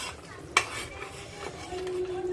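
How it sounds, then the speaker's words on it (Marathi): A metal lid is lifted off a pot of simmering Agari-style curry with stuffed dumplings, giving one sharp clink followed by a soft steady simmer and faint kitchen clatter. "सात आठ मिनिटं झाली आहे झाकण काढून बघूया"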